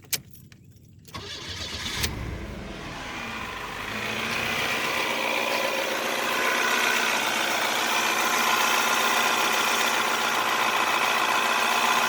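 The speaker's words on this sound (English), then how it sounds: "How's an old car fire up with that many miles?" A Chevy Celebrity 2.5 four-cylinder with 255,000 miles cranks and catches, then settles into a steady, rumbling idle that continues loudly nearby without speech.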